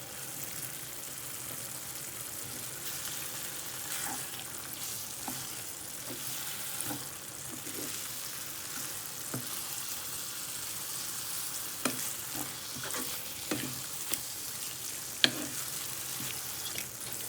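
Spring onions and country hen eggs fry in a pan with a steady, close sizzle, punctuated by occasional light stirring clicks and taps from a utensil, continuing evenly throughout with no voices.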